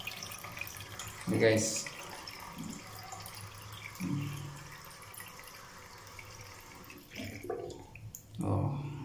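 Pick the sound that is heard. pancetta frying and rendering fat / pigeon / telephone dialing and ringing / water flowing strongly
water flowing strongly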